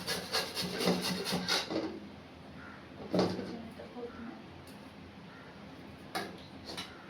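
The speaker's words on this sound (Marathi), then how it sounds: "आणि हे ना आता छान किसून घ्यायचं आहे बारीक" Cucumber is rasped finely on a hand grater for parathas, with quick rhythmic scraping strokes in a burst at the start and a few short strokes after, close by in a home kitchen.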